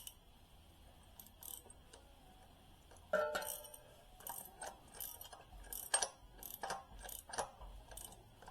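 Ratchet with a socket clicking during a Ford 5.0 engine swap, quiet close bursts of rapid pawl clicks with metallic clinks and handling noises, no talking.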